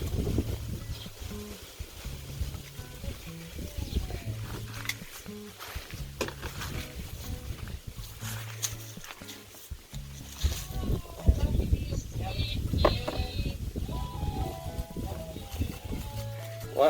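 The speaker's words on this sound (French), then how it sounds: "Il y a du vent." Outdoor wind buffets the microphone at a toddler's second birthday gathering, a steady low rumble with gusty swells running throughout, under people talking nearby.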